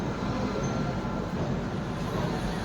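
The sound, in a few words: 13053 Kulik Express train running slowly after leaving Howrah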